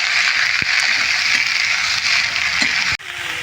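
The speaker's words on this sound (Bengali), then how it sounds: "পেঁয়াজটাকে একটু নেড়ে নেওয়ার পরেই এখানে আমি বটবটিটা দিয়ে দেবো" Sliced onion frying and being stirred in a pan gives a steady, close hiss with occasional scrape clicks, broken by a brief drop near the end.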